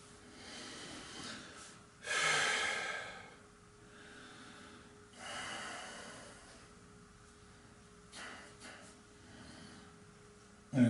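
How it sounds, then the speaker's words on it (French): Slow, deep breathing during a guided breathing exercise, with two long, audible breaths drawn in and pushed out, close to the mic over a quiet background, then softer breaths. "J'inspire, j'expire."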